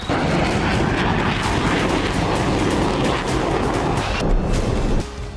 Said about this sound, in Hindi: यूक्रेन के आसमान पर गरजेंगे अमेरिका के सिंगल जेट इंजन वाले F-16 फाइटर जेट